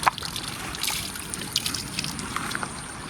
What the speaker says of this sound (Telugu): ఈ కొండపై నుంచి వాటర్ వస్తున్నాయి.